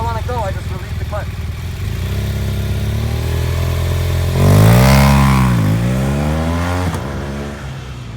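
A motorcycle launching from a standstill as the clutch is released: a loud, close engine idling, then revving sharply upward and pulling away as the pitch rises and falls through the gears.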